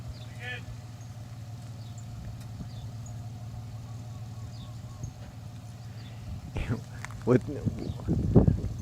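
A truck backing in and out to make a turn at a bare lot in Milolii on Hawaii's Big Island, its engine running as a steady low hum throughout, with louder knocks and rumbles building near the end.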